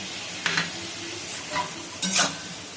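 Boiled sambar vegetables stirred in a pot with tamarind water, giving three short soft scraping bursts over a low, faint simmer, with no voices.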